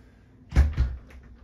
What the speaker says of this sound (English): Come through the side door here.